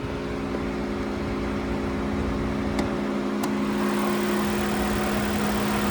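The 5-liter V8 of a 2023 Lexus LC500 convertible idles in a steady, smooth hum, close and even throughout, with a couple of faint clicks partway through.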